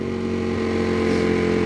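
A Ducati 748 motorcycle engine running close by in a residential neighborhood, a steady, loud, throbbing engine note that builds slightly toward the end.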